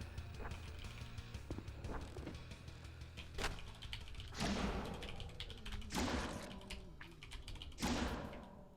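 Fingers type on a computer keyboard during the typing game Blood Typers, making soft, irregular clicks and clatter in quick clusters, with a few louder bursts of key presses near the end.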